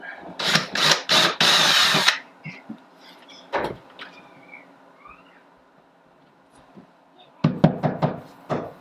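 A power drill whirs in several short, loud bursts driving into drywall, then a quiet stretch with faint knocks before another quick series of drill pulses.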